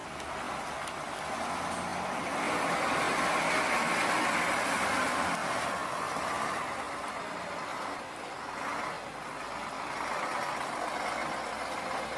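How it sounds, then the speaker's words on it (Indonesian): A heavily loaded truck hauling about 33 tons of crude palm oil on the road, its engine a low, steady drone at a distance that swells and eases slightly as it passes, with no voices. "ada truk The Great Rinton muatan CPO, ini sekitar 33 ton"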